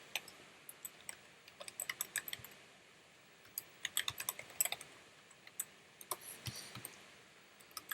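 Fingers type a web address on a computer keyboard, giving quiet irregular key clicks in short bursts against a soft background, with no voices.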